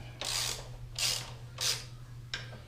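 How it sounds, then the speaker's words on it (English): A 12mm socket ratchet clicks through four quick, crisp strokes while a bolt is loosened on a 2022 Triumph Tiger 900 motorcycle during a pannier rack install, close-up over a steady low hum. "So we're gonna go ahead and go with the 12mm socket."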